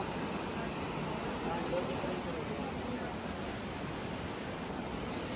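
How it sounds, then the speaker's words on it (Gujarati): A river flows strongly through hilly country, producing a constant, broad rushing roar that stays steady and fairly faint from start to finish. "નદી વહી રહી છે ફૂલ જોરદાર"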